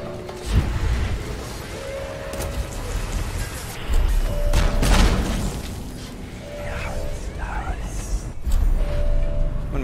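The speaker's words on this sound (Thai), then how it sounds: "มีเครื่องยิงระเบิดด้วยหรอวะ" Heavy booming explosions and bursts from a grenade launcher in the video game Dishonored, several deep blasts spread across the scene over a noisy mechanical, rain-like background with tonal game sounds.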